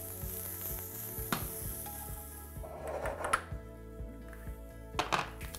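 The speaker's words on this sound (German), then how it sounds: "Also Ingwer hacken und dazu anbraten" Ginger sizzling and frying in a pan, with a few thunks and clatters of stirring and utensils against cookware, close up.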